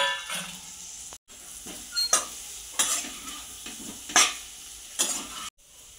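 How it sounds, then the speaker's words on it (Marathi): Boiled potatoes being stirred and tossed with roasted spices in a pan, with a steady soft sizzle broken by repeated scraping strokes of a spoon against the metal. "बटाटे आपण असे 2 मिनिट चांगले परतून घ्यायचे आहेत"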